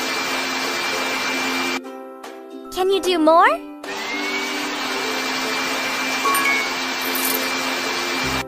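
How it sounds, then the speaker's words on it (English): A cartoon vacuum cleaner in a baby care video game cleans the floor with a steady, loud electric whine that stops briefly while a short jingle and a character's voice play, then resumes. "Let's vacuum the floor!"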